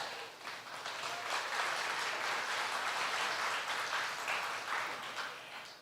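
A seated audience at the Choctaw Nation princess pageant breaks into sustained, dense applause that stays even and full for several seconds with no one speaking.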